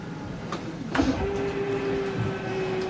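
RV rack and pinion slide-out motor on a 2021 Forest River Wildwood Heritage Glenn travel trailer running as the slide opens: a steady mechanical whine and rumble with a rising tone, close and continuous, no talking.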